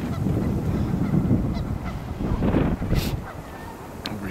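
Geese at a bridge during nesting season honk in a loose, uneven series of calls, moderately near, over steady wind noise.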